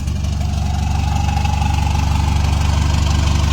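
A diesel pickup engine idles steadily, a low, even knocking rumble with a rhythmic pulse, close and loud with no talking.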